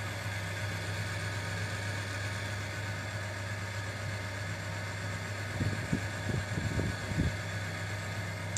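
A car engine, restarted during an automatic transmission oil friction test in warm weather, runs at a steady low idle hum with faint rattling knocks near the end.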